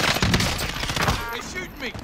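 Rapid bursts of gunfire crackle in Call of Duty Warzone, dense overlapping shots in quick succession, loud and close, with game voices mixed underneath.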